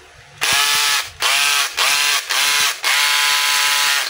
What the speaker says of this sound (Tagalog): Hawakan nyo lang yung chuck, tapos i-forward nyo yung andar.